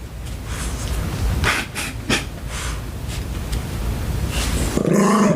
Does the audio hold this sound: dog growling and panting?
yes